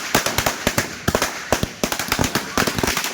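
A rapid string of firecrackers bursts at a New Year celebration with church friends, dozens of loud, close, sharp cracks popping in quick irregular succession.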